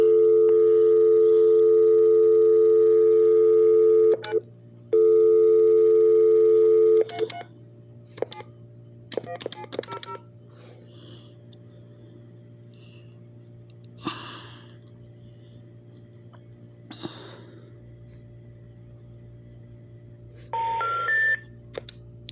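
Telephone tones: a steady loud dial tone broken by a short gap, then a quick series of touch-tone dialing beeps, followed by sparse clicks and a final burst of tones, with no talking.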